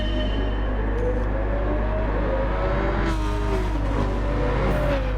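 Race cars including a Porsche 911, Ford GTs, Huracáns, a BMW and a Mustang race at Deep Forest in Gran Turismo 7, engines droning and revving steadily as the pack runs close together.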